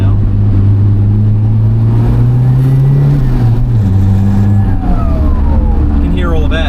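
A Mitsubishi Express 4x4 van with a swapped engine revs hard and steadily in second gear, a loud low drone that climbs and shifts pitch as it pulls through the gear, close and continuous.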